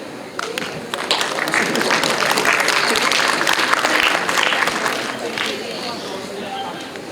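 A conference audience gives a sustained round of applause that holds steady for several seconds, then eases slightly toward the end, with a faint murmur of voices mixed in.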